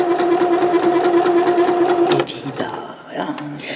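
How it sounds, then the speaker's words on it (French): A domestic sewing machine with its needle shifted to the side stitches a skirt hem, a fast steady mechanical whir close by that stops about two seconds in, followed by faint handling clicks. "j'ai décalé mon aiguille donc, sur le côté pour coudre l'ourlet au bord."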